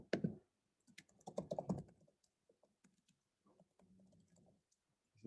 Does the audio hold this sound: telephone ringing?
no